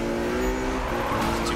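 A BMW in Need for Speed drives hard with a steady engine drone and rising tire squeal near the end, loud and continuous, with faint talk underneath.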